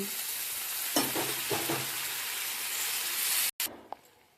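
Tomato pieces going into frying ginger-garlic paste for a village-style tomato egg curry, a steady hissing sizzle with a few stirring knocks, then an abrupt drop and a quieter fry.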